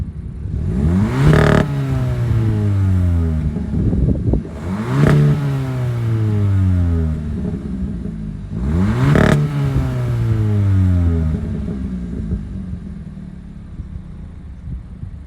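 A turbocharged 2024 Hyundai Elantra N-Line sedan engine revs hard three times in a row through dual exhaust, each burst rising and falling with a throaty exhaust note, loud and close.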